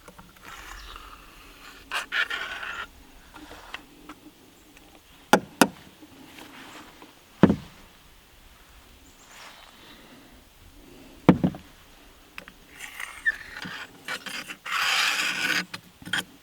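Intermittent scraping and rasping as a tool is run down a chainsaw bar groove to clear out packed sawdust and gunk, with sharp knocks and clicks between strokes and a longer rough scrape near the end, fairly quiet and close.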